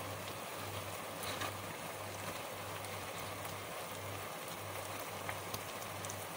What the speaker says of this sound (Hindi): अब मैं इसमें आधा किलो जो है ना वो कीमा डालने लगी